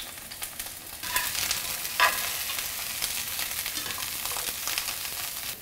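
Broccoli sizzles and crackles in a hot pan as it fries first for mi xao stir-fried noodles, a steady close frying hiss with occasional stirring scrapes.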